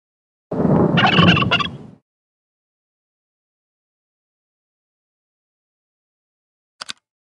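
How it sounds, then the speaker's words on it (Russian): A turkey gobbles loudly and close for about a second and a half, then silence, ending with a brief faint double click. "Индюк Игорь испугался."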